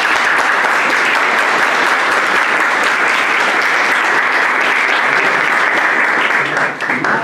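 Audience applause fills the Saints Cyril and Methodius church, a steady, dense clapping that holds loud and even for several seconds before thinning slightly near the end, with no clear talking over it.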